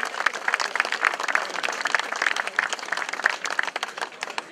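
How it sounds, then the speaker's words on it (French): Spectators at a cycling race finale in Plougourvest applaud the third-placed rider, with moderately loud, lively clapping and a few distinct sharp claps standing out from the crowd. "De nouveaux applaudissements pour le troisième, Erwan Corbel, s'il vous plaît."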